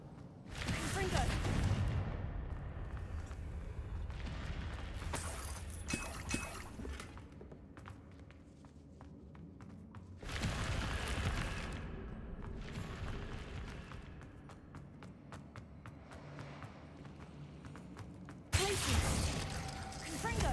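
Confringo blasting spell explosions in Hogwarts Legacy, several loud bursts with shattering, rumbling decays and debris trickling between them, mixed with game sounds and occasional talk.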